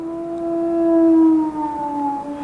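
Eerie hound howl on the moor for a radio drama, a single long wavering wail rising and then slowly falling, clear and prominent, with no voices.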